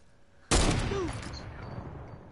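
A single sharp, loud sniper rifle shot in a first-person shooter video game cracks out and rings into a long decaying tail, with faint game ambience before it.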